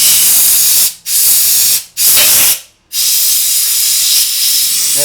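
New air compressor blowing loud, close, continuous hiss of air in a workshop, cut off in three short bursts of silence before resuming, no talking.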